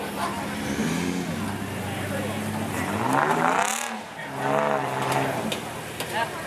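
An off-road vehicle's engine labors and revs as it climbs around a big rock at Hannibal Rocks Offroad Park. The engine pitch rises and falls with the throttle while a commentator talks over it.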